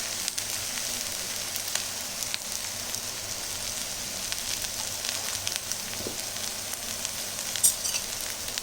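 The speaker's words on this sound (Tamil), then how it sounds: "இப்போ திருப்பி போட்டதுக்கப்புறம் கொஞ்சமாக நம்ம எண்ணெய் விட்டுடலாம்" Egg masala dosa frying in oil on a hot pan, a steady close crackling sizzle that runs evenly throughout with faint scraping touches.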